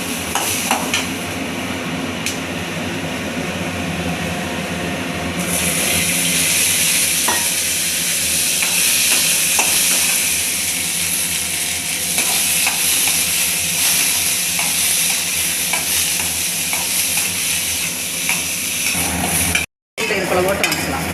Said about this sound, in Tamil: போட்டு நல்லா சோறை வணக்கிறோம்.